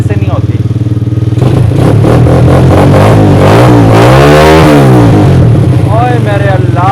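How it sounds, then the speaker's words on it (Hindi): A 125cc quad bike engine revved with a thumb throttle, loud and close, its pitch rising and falling through a couple of throttle blips over a steady idle. "अब अंगूठे से इसकी मैं रेस दूंगा, ये ऐसे नहीं होती।"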